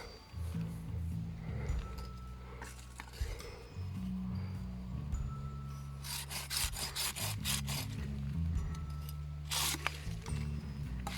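An Intertool HT-3145 hand saw cuts garden branches in rhythmic back-and-forth rasping strokes, close and fairly loud, with a few sharp crackles and faint voices and rustling beneath.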